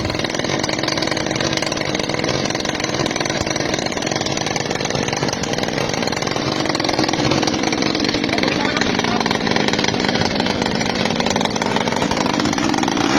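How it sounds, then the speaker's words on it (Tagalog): A grass cutter engine fitted to a homemade airplane runs steadily at a high, buzzing pitch, loud and continuous throughout, like a two-stroke motor idling and revving while warming up. "pinainit niya muna ang makina ng grass cutter na ginawa niyang eroplano"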